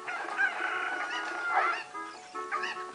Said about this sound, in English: Can you see all the chickens?